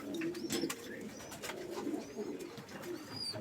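Pigeons cooing inside a loft, several soft, close coos repeating in overlapping bursts, with a few faint chirps above a quiet background.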